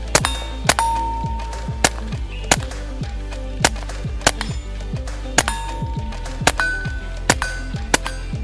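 Suppressed gunshots fire in a quick irregular series of sharp muted cracks, each followed by a short metallic clink or thunk, close and loud with no talking.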